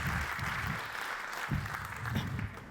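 An audience at a live stage show applauds steadily, a dense wash of clapping held at an even level for nearly three seconds with small surges along the way.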